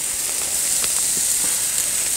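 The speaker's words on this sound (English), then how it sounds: "2 whole plaice on the grill" Two whole plaice sizzling on a barbecue grill, a constant bright hiss of frying with a few soft pops and crackles, close and steady.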